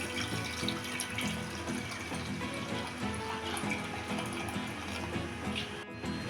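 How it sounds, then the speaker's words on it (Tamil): Water poured into a pressure cooker over moong dal and potato pieces, a steady close rushing and splashing stream that runs continuously without pause. "இப்போ இது முழுகிற அளவுக்கு தண்ணி ஊற்றிக்கலாம்."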